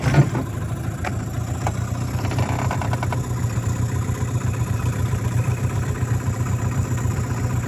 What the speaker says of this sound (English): So we'll start it up and show you just how nice this motor turned out.